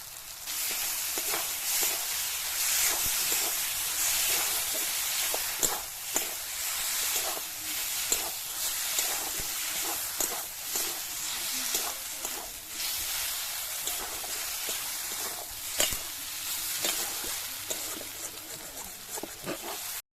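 Bish kochu stems frying in a pan with mustard and chili paste, a close, hissing sizzle with bright spattering crackles and occasional sharper pops, steady and fairly quiet for about twenty seconds.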